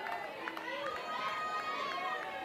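Crowd at a college softball stadium during a Texas versus Oklahoma State game, a steady wash of chatter and cheering with an announcer's voice over it.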